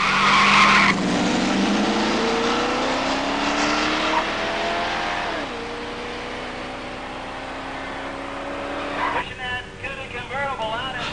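A Plymouth 'Cuda launches in a drag race, a loud engine roar climbing through the gears with tire squeal, then shifting and fading while other engine noise rises near the end.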